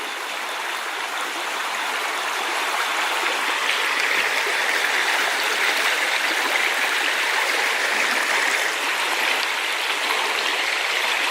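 Swift floodwater after Tropical Storm Florence rushes steadily past, a broad, constant hiss and roar that stays close and fairly loud without pause, with no voices over it.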